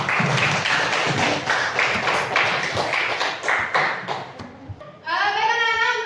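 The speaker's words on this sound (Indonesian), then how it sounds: "Dan anak-anak tepuk tangan untuk kita semua." Children in an Indonesian classroom clap their hands together in a dense, sustained round of applause that lasts several seconds, then stops abruptly and gives way to a pinging electronic tone.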